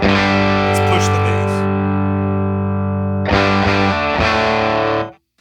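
Electric guitar with a humbucker pickup played through a Dr. Z Z-80 amp with the bass turned all the way up, one thick sustained chord ringing loudly, then a second strum that rings out and cuts off abruptly.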